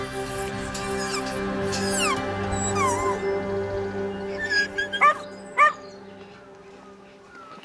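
A dog shut in on its own whines and whimpers in rising, falling cries, then gives a few sharp, loud barks near the end, with steady background hum throughout.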